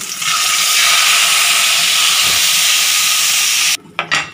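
Dissolved tamarind water pours steadily into a cooking pot for drumstick milagu kulambu, a loud continuous splashing rush that ends abruptly, followed by a couple of brief clinks.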